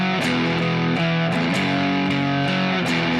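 Heavily distorted electric guitar plays a riff, a run of bright sustained notes with sharp pick attacks and little silence between them, loud and alone with no talk.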